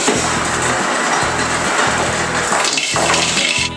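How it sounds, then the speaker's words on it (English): Water gushes steadily from a tap into a normal mixing bowl holding ice, a loud continuous rushing pour that shifts in tone near the end, with no talking. "I'm gonna just grab a normal mixing bowl and I'm gonna put some ice in it and some water."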